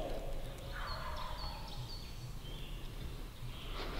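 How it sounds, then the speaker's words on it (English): A wild turkey longbeard gobbles on a hardwood ridge at sunrise, distant and thin over steady ambient outdoor noise, with a few faint bird chirps around it. "that bird that's been hammering is coming up to the ridge right now"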